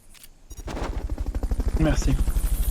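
Rapid automatic gunfire from the video game Metal Gear Solid Peace Walker, a steady stream of close, punchy shots lasting several seconds, with someone speaking briefly over the firing.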